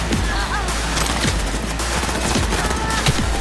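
Sustained automatic gunfire in Cyberpunk 2077 on PS5, a dense continuous stream of rapid shots and booms layered over a steady game soundscape, with no talking.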